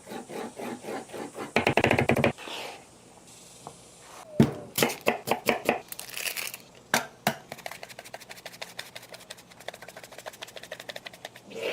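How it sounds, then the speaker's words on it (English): A knife rough-chops Hatch green chili on a cutting board, producing rapid, close, crisp chopping strokes in bursts with brief pauses, loud and unaccompanied by talk. "we can go ahead and cut this down a little bit, just into a rough chop"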